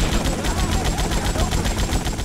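Dense, continuous automatic gunfire from the Grand Theft Auto Vice City war-zone mission, a rapid loud rattle with no pauses over a busy, noisy mix.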